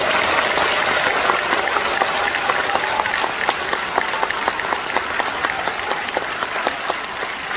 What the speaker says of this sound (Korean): 다 같이 한번 큰 박수 한번